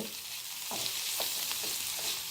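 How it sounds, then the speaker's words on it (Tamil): Adamant creeper and onion sautéing in a pan, a continuous soft sizzle with a few rhythmic stirring scrapes about every half second, close and fairly quiet with no talking. "பிரண்டை போட்டாச்சு, நல்லா வதக்கிடலாம்."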